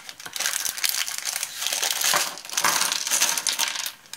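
Loud, close crinkling and crumpling of foil, continuous bursts of crisp rustling that rise and fall in intensity, with no talk.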